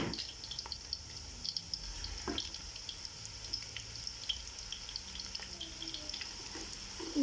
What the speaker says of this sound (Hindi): प्याज फ्राई होने के लिए रख दिए।